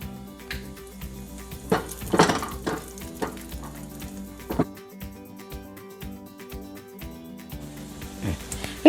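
Cashews lightly frying in a pan for sweet pongal, with a faint sizzle under irregular clinks and scrapes of a spoon against metal, close and without talk.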